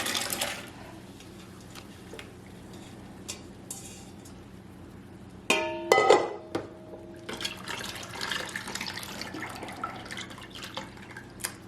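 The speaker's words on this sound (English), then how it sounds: "I'm going to catch this alkaline solution in this catch bowl" Alkaline lime water from nixtamalized dent corn drains into a catch bowl, a faint trickle and scattered drips, then a brief louder splash and patter before settling into continued dripping.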